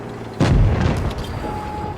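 An FV183 tank's heavy gun fires once in a video game: a single loud, close boom that rolls into a long rumbling decay, with no talking.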